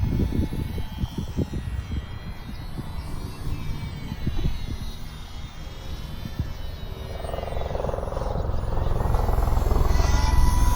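A ParkZone Ultra Micro Spitfire RC plane with a tiny single-cell brushed motor buzzes through the air, its thin propeller drone swelling louder toward the end as it makes a low pass.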